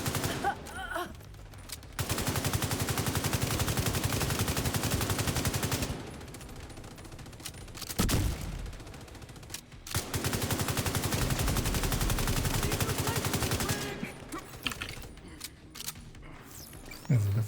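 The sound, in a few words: AK rifle gunfire in a video game boss fight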